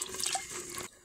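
Water splashes and drips briefly as red potatoes are rubbed and washed by hand, a short close trickle and slosh that cuts off abruptly.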